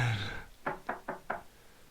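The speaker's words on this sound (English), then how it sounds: "Someone knocks on my door." A door is knocked on four times in the video game Koenchu, evenly spaced sharp raps at close range following a brief moment of background voice.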